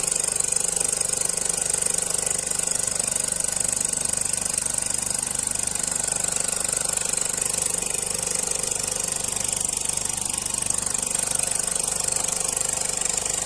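A vacuum pump runs steadily throughout a laboratory filtration while a solid residue is washed with distilled water, a constant mechanical drone with a faint rhythmic knock, loud and unbroken.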